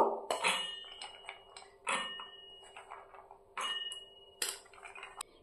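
Chana dal and other items go into a mixing jar with a series of sharp clinks and knocks of metal and glass, spaced irregularly and ringing briefly, close and clear with no talk.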